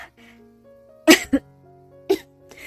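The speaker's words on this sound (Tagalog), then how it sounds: "Narito na naman ang ubo ko." Two quick harsh coughs in a row, then a single cough a moment later, close by, over a faint background hum.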